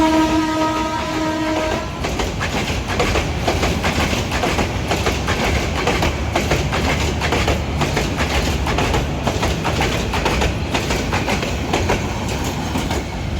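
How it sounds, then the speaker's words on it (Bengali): A train crosses a double-deck rail bridge at Kewatkhali, Mymensingh, opening with a short horn blast and then a loud, continuous rumble and rapid clickety-clack of wheels close by. "একটি ট্রেন আসছে, ট্রেনের উপরের দিকে খেয়াল করবেন"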